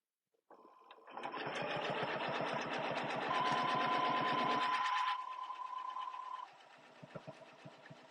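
Quilting on a sewing machine with a template and spacing gauge, the motor runs up into a fast, steady needle hum that lasts a few seconds. It then slows to a softer, lighter whir before a few stray clicks.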